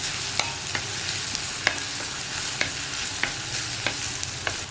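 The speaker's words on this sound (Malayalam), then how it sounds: "സവാള ഒരു 2 മിനിറ്റ് നമ്മൾ ഇളക്കി കൊടുത്തതിന് ശേഷം" Onions frying in a pan for a home-style Kerala egg thoran with okra, stirred with a utensil that gives sharp scraping clicks at a steady rhythm over a constant sizzle, close up and with no one talking.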